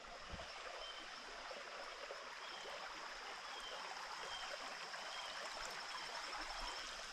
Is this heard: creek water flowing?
yes